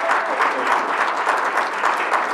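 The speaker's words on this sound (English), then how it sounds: "Let's give him a round of applause." An audience at a Rochester school board business meeting claps for an honoree. The applause is steady, dense and fairly close, with many hands blending into one continuous wash and no voices standing out.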